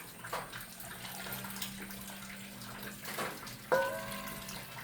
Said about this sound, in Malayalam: തേങ്ങാപ്പാൽ 2ാം പാൽ നമുക്കിതിലേക്ക് ഒഴിക്കാം